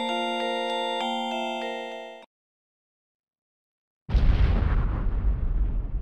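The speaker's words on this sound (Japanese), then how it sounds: "もう慣れたもんだな、爆発も。" An explosion booms loud and abrupt in the PS1 video game Kindaichi Shounen no Jikenbo, preceded by a sustained synth chord that cuts off into about two seconds of silence before the blast erupts and rumbles on.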